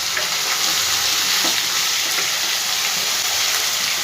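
Potatoes sizzle in a hot frying pan as they are stirred, a dense close crackle with soft scraping strokes layered over it, steady for a few seconds.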